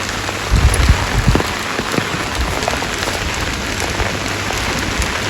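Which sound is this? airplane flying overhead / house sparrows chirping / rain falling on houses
rain falling on houses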